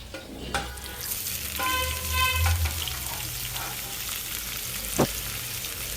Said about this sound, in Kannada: ಇವೆರಡನ್ನು ಚೆನ್ನಾಗಿ ರೋಸ್ಟ್ ಮಾಡ್ಕೊಳ್ಳಿ